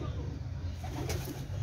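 A Lal Motiyon Walaya pigeon crossed with a Lal Badshah female coos in low, soft, rolling tones, close by and continuous, with faint background noise around it.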